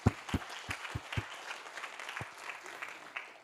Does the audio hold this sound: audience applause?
yes